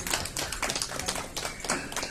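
Studio audience clapping on a Bengali quiz show after a correct answer, a dense run of hand claps that holds steady for about two seconds at moderate level, with no voices over it.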